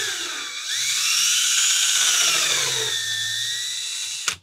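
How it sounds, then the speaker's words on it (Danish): A power drill bores into wood, its motor whining high and steady for several seconds with the pitch sagging and recovering under load, then a brief sharp burst as the bit stops. "Og når man så skruer eller borer i sådan noget træ her, så borer man lidt."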